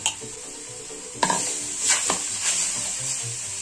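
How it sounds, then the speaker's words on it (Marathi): Grated raw colostrum milk drops into a hot kadhai with a sharp burst of sizzle, followed by a steady frying hiss and a few clinks and scrapes of a utensil against the pan, close and without talk. "आता आपण गॅसवर एक कढई ठेवून त्यात हा चिकाचा खिस पहिल्यांदा टाकून घेऊया"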